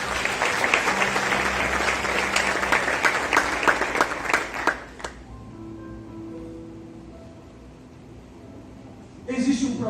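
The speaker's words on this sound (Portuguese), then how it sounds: "Você pode aplaudir ao Senhor?" A church congregation bursts into loud, dense applause that fills the first five seconds, then fades into sustained organ or keyboard tones, with a brief burst of clapping or voices returning near the end.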